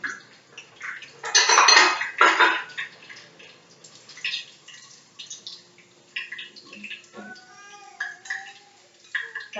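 Bowls and dishes clatter and clink as they are handled during tofu preparation, with a loud burst of knocks early on followed by lighter scattered taps and scrapes, close by and without talk.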